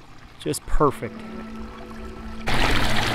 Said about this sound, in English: listen to the sound of that waterfall